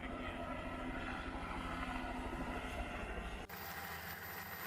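A helicopter taking off from a beach roars loudly and steadily nearby, a thick engine drone with a pulsing beat that shifts abruptly partway through.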